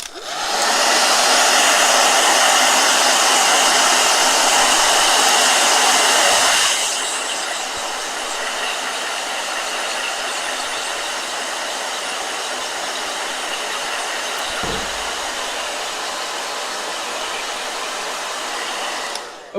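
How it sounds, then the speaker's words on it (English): A handheld hair blow dryer runs loud and steady for several seconds, then drops to a lower, quieter setting and keeps whirring without a break. "Blow dryer."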